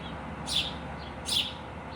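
A small bird chirps twice, two short bright calls about three-quarters of a second apart, fairly faint over a low background hum.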